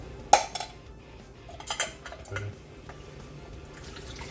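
Cooked spaghetti being drained in a home kitchen: a sharp metal clank of the pot, a few lighter clatters, then soft dripping and trickling water, with no talking.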